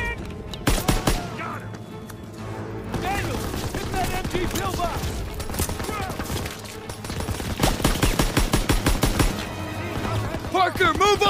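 Rapid machine gun fire from an MG pillbox in Call of Duty WW2 rattles in dense bursts amid explosions and other battle noise, with voices heard in the mix.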